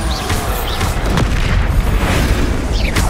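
A Bombarda explosion spell in Hogwarts Legacy: loud, booming blasts with a heavy low rumble, sounding repeatedly over a dense continuous backdrop of game effects.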